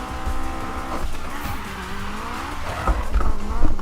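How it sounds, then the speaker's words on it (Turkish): Car drifting in Need for Speed 2015, driven with a Logitech G27 wheel: a steady engine drone with squealing, sliding tires over about four seconds, growing louder toward the end, no voices. "biraz drift yapayım"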